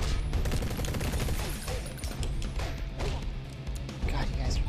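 Rapid gunfire bursts and impacts in the game The Bombadiers, dense continuous shots and crashes layered over game music, with no voices.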